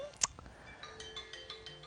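A phone timer alarm rings in a kitchen, a repeating electronic ringtone pattern of short bright tones after a sharp clatter near the start, fairly faint and heard alone.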